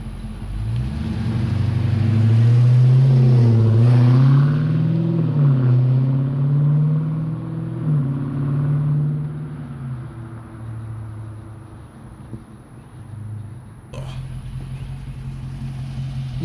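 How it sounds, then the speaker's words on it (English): Stock exhaust on a car with an active exhaust system, heard in sport and custom modes, revs into a loud, deep rumble for several seconds, then settles back toward an idle. No one speaks. "Just to let y'all know how the stock exhaust sound."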